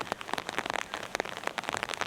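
Rain patters on a small camp with a single-person tent and rain tarp beside a river in the New Zealand mountains, close, irregular drops striking the surface over a soft background wash, with no talking.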